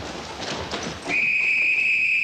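One long, steady whistle blast sounds loud and close after a moment of scuffling crowd noise, holding an unbroken pure tone to the end, during a prison riot-control drill.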